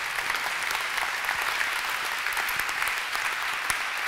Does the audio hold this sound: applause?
yes